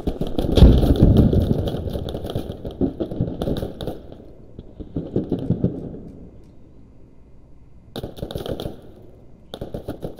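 Grenade explosion in the video game Squad during an invasion round: a heavy blast near the start followed by sustained rumbling gunfire and engine noise, with further bursts of shooting later on.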